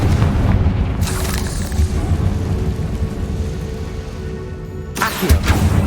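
Fiery Confringo spell blasts in Hogwarts Legacy, a heavy booming explosion rolling into a long low rumble, with sharper bursts at the start and end.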